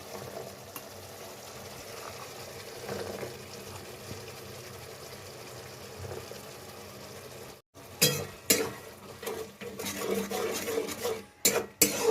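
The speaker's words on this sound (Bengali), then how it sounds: "একটু ভালো করে কষিয়ে নিই।" Peas, broccoli and potato being sautéed in a pan for a vegetarian broccoli dish give a steady, soft sizzle for about seven seconds. After a short pause come louder scraping and stirring noises, with bursts of frying and clatter.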